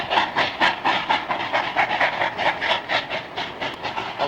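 A steam train double-headed by two locomotives chuffs past nearby, loud rhythmic exhaust beats pulsing evenly with a hissing edge over a low rumble, heard outdoors in Colorado without talk.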